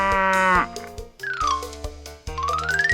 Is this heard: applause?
no